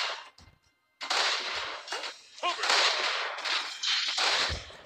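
Sniper fire in the World War II shooter War Heroes on an Omaha Beach map, loud sharp cracks and blasts in a dense barrage of game combat noise, with a brief quiet gap near the start.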